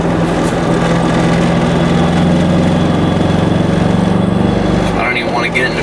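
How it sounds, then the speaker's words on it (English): BMW E30 engine misfiring after a spark plug popped out, a loud, steady, rough-running drone that holds for several seconds before shifting near the end. "you can hear it's probably misfiring"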